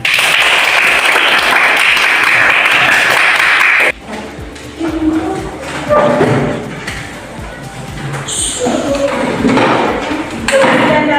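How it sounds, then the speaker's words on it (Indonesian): Students in a seventh-grade classroom give a burst of loud, close clapping for about four seconds, then scattered thumps, taps and voices follow. "Ya, tepuk tangan."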